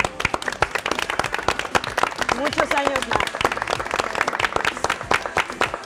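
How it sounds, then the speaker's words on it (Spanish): Applause from a crowd, dense clapping throughout with voices talking over it. "pues un aplauso"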